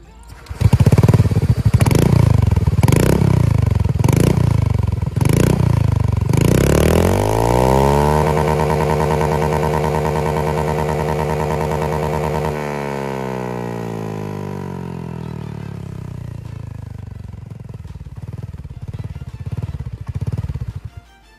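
A scooter engine with a loud, raspy aftermarket Akrapovic exhaust blips several times in sharp bursts, then holds a long high rev before winding down, close and loud.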